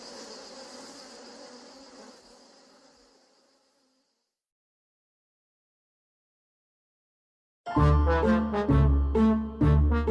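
Bees hum around a hive in a steady buzz that fades away over a few seconds. After a stretch of silence, a loud burst of tonal music begins.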